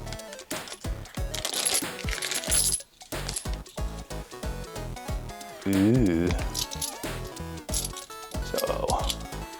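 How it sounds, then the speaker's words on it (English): Metal game coins from the Super Boss Monster Deluxe board game clinking, repeated bright jingles and ringing clacks as they are handled and dropped, with a voice talking throughout. "ooh, metal coins. Can't be upset by metal coins."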